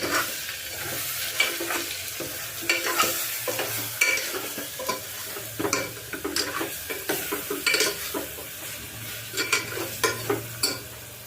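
Spiced potatoes with salt are stir-fried in a pan: a steady sizzle runs under repeated scraping and stirring strokes of a spatula, close and fairly loud, with no voices.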